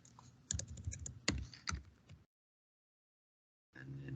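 Fast, soft tapping on a computer keyboard, several quick keystrokes with a couple of sharper clicks, stops in a sudden silence before typing picks up again.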